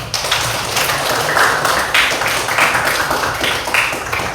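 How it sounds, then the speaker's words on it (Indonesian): Classroom applause from students, a steady patter of many hands clapping together for several seconds, fairly loud and close. "Tepuk tangan yuk."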